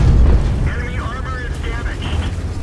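A Renegade tank's gun fires in a tank video game, opening with a heavy, close low boom that rumbles and fades. Wavering whistling tones and mechanical noise follow over a steady low background.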